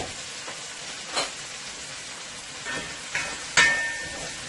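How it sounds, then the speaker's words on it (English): Potato frying in a pot of hot oil, a soft continuous sizzle with a few brief louder crackles and stirring scrapes, close and heard alone. "that is my potato that's frying up nicely there"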